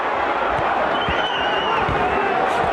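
Boxing arena crowd at the James Toney versus Peter fight getting riled up, a loud steady roar with scattered thuds and a rising whistle-like tone, under a commentator's voice.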